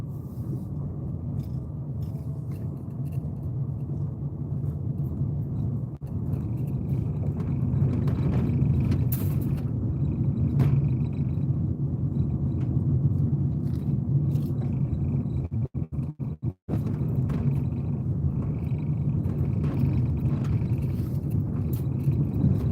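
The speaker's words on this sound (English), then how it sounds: "you can feel the car like bouncing up and down." A car drives slowly along a bumpy country road, heard from inside as a steady, loud, low rumble, with a few brief knocks and clicks near the end.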